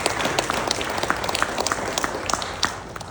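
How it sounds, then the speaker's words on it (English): Applause from an MBA and MSM student orientation audience fills the room, a steady dense patter of many hands with scattered sharper claps throughout. "So give yourself, your future classmates, your future professors, and future business partners a round of applause"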